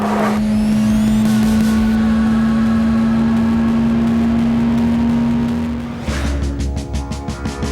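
A GT3 race car on the main straight at Barcelona, its engine a loud, steady high drone held for several seconds, then cutting off abruptly into a rougher, lower, pulsing note.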